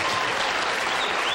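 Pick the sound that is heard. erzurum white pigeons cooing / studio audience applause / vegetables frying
studio audience applause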